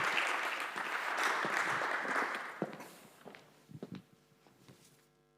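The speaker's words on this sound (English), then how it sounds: "get another round of applause" Sustained applause from a conference audience at a sustainable development event fills the first half and then dies away into scattered claps and footsteps.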